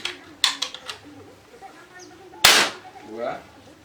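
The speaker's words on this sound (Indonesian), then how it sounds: "Kita coba berapa kali tembakan ketika senapan diisi 2000 PSI." A modified PCP air rifle charged to 2000 PSI fires one sharp, loud crack partway through, with a few lighter clicks and voices around it.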